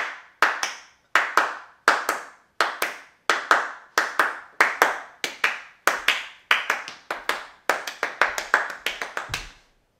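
Hands clap a dotted rhythm alone in a quiet room, crisp close claps in repeating short-long pairs that speed into quicker clusters near the end.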